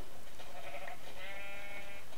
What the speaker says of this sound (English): Of course, we can't resist hitting a few sheep.